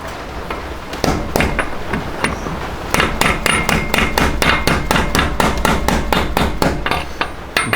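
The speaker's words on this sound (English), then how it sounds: "now that you can kind of start pushing your seal in" A hammer taps a main sprocket shaft seal into a Shovelhead Harley primary: a close, ringing series of metallic blows, sparse at first, then a quick, regular run of strikes.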